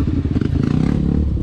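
A Honda CRF230 dirt bike engine runs close by on a motocross track, a loud, rough, rapidly pulsing putter with some rattling.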